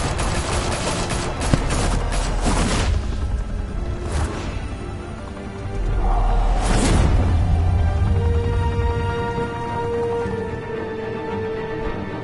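Rapid, dense gunfire bursts erupt in Batman: The Telltale Series, several heavy volleys with a whooshing impact mid-way, loud and close before tapering into a low rumble.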